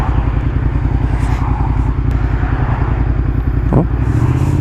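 A motorcycle rides at around 60 km/h with a steady, loud engine drone and wind rush, heard up close throughout without pause.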